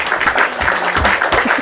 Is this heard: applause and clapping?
yes